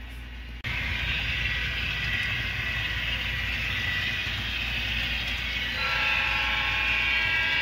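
A model train runs steadily along layout track near the Colorado Springs siding after leaving a helix, giving a continuous close rolling rumble and whir with a brief quiet start and a slight rise in tone near the end.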